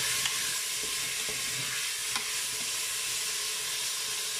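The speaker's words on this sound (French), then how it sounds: "Alors je les mets à rissoler. On va remuer pour pas que ça colle." Food browning in a Cookeo multicooker set to its browning mode, with a steady close sizzle and frying hiss and a few soft scrapes as it is stirred, no talking.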